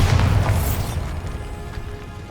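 Bombarda explosion spell in the video game Hogwarts Legacy: a single heavy boom with a bright burst that quickly decays into a low rumbling tail lasting about two seconds.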